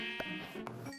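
Sheep bleating in the Minecraft video game, a wavering nasal bleat over a steady background tone, moderately clear with faint clicks, no talk.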